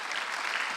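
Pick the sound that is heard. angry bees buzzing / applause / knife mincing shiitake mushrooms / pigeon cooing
applause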